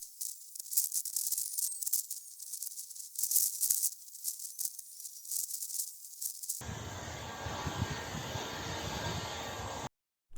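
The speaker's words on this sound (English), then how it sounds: "I'm using my heat gun to emulate a running engine." A heat gun curing engine paint blows with a loud, steady rushing roar that cuts off abruptly near the end, preceded by intermittent hissing bursts.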